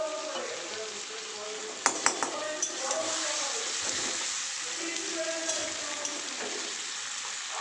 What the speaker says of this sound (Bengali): দেখো এবার এটা ভালো করে কষাবো, তেল ছাড়া অবধি ভালো করে একদম কষিয়ে